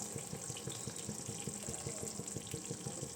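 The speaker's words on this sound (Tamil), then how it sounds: "இப்போ தண்ணி தேவையான அளவு தண்ணியை ஊற்றிக்கலாம்" Water poured into a simmering taro root curry in a home kitchen, a steady low splashing gurgle, close and fairly quiet throughout.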